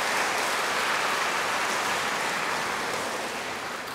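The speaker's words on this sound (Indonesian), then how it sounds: "Kita beri aplaus untuk anak-anak kita." An audience at a children's mission day church event gives a steady, dense round of applause, loud and continuous, tapering slightly toward the end.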